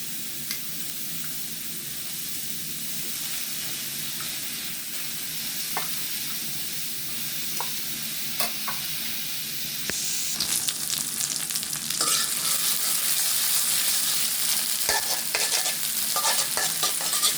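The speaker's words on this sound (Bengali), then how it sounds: "পেঁয়াজগুলো ভালোভাবে লাল লাল করে ভেজে নেব।" Chopped onions frying in oil for khichuri, a steady close sizzle running throughout, with occasional stirring clicks that grows louder and brighter in the second half as the onions are turned in the pan.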